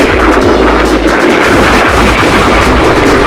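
Loud, dense gunfire from a video game shooter pounds without a break, a heavy, clipped roar of repeated shots and booms filling the whole stretch.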